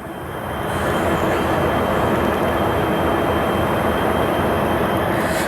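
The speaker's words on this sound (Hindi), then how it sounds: "सो हमारी गरीब रथ एक्सप्रेस को लीड कर रहा है टाटा नगर लोकोशेड का" Garib Rath Express passenger train led by a WAP7 electric locomotive from the Tatanagar loco shed, a loud steady rumbling roar of rolling coaches that swells in the first second and then holds constant, with no voices.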